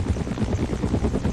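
A helicopter in a military shooter video game, a steady loud rotor thump and engine drone filling the whole moment.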